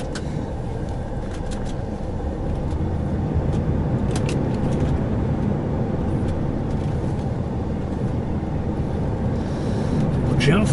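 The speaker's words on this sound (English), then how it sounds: "Watch out for that car" A car drives past on a road, its broad engine and tyre rumble swelling near the end, while a person talks over it.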